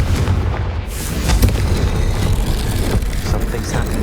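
A loud, rumbling blast from the Confringo fire spell in the Hogwarts Legacy video game booms up close and rolls on as a dense roar for several seconds without fading.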